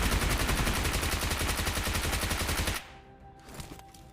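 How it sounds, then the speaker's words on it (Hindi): Sustained automatic gunfire in the video game PUBG, a rapid rattling burst of shots lasting nearly three seconds before cutting off to quieter ambient game sound with a faint distant shot. "यहाँ पे मुझे कुछ फायरिंग का साउंड आता है"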